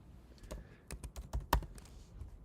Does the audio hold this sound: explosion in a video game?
no